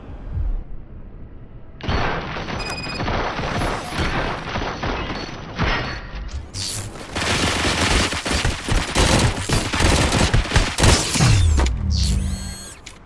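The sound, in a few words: gunfire in the video game RoboCop: Rogue City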